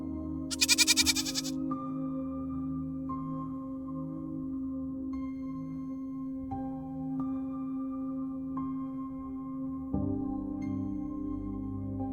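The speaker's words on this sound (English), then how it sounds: "So naturally, Ton became Cinnamon the goat" A goat bleats loudly in a short quavering burst near the start, then steady background music plays on alone for the rest.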